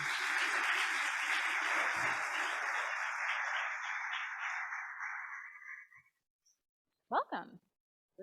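Audience applause welcomes Cory Doctorow to the stage at a conference discussion: steady clapping that fades away over several seconds, then silence and a brief spoken word.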